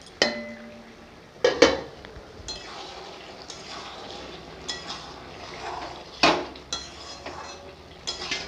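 A metal lid comes off a cooking pot of muri ghonto curry with a couple of sharp clanks, followed by softer utensil taps, scrapes and brief liquid sounds, close by in a quiet kitchen with no talking.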